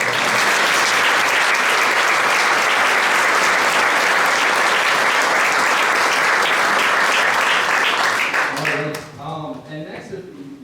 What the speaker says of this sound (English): If we could just give them a round of applause.